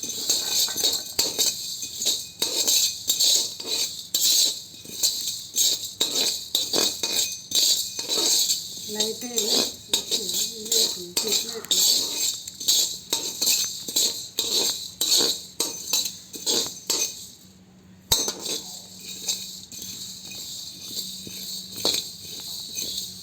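Urad dal roasting in a pan for curry leaf powder, stirred with a utensil that scrapes and clinks against the metal in a steady, busy rhythm close by, with a brief pause near the end.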